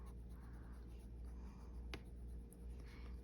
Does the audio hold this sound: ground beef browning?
no